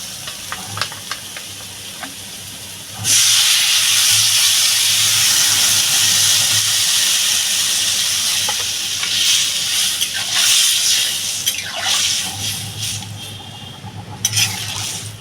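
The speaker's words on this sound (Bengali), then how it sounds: "কচুটা আমার কষানো হয়ে গেছে আমি এবার পরিমাণ মতো জল দিয়ে দেবো" Water poured into a sizzling taro curry with katla fish in a pan, bursting into a loud, steady steam hiss and frying sizzle after a quieter start with faint clinks, gradually easing with a few stirring scrapes.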